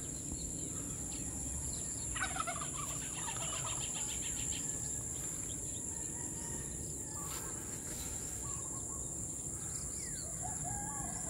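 About twenty birds just released from a training box give scattered fowl calls, including a brief gobbling burst. Behind them runs a constant high, insect-like drone and steady outdoor background noise.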